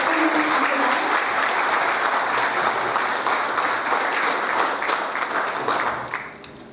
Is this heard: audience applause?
yes